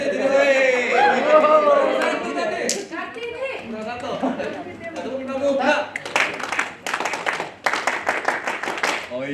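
Indonesian scout clap (tepuk pramuka) done by a group at a Sunday service, a leader talking before a burst of rhythmic clapping in quick bursts, with voices chanting and chattering over it.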